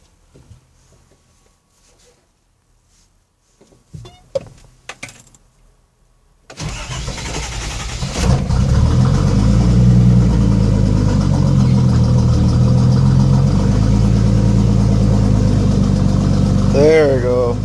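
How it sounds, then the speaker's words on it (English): Cold start of a 1970 Datsun 240Z with an L28ET turbo engine: a few faint clicks, then the engine catches with a sudden loud burst and settles into a strong rev and steady running, with a voice briefly heard near the end. "let's try this cold start again."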